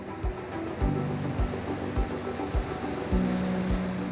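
Sea waves smash into an eroding shoreline at Climping beach, each low surge breaking in a steady, repeating rhythm of roughly six crashes, close and loud, with no voices.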